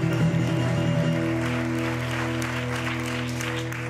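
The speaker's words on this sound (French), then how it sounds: "sous vos applaudissements" Audience applause at an improv theatre show during the Impro en Seine 2024 festival, a steady dense wash of clapping throughout, with a low sustained musical tone underneath.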